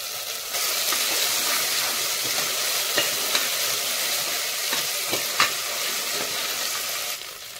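Ginger garlic paste with a pinch of asafoetida sizzles steadily in a hot pan, a continuous frying hiss with occasional crackles and pops throughout.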